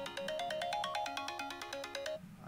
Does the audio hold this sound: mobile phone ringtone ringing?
yes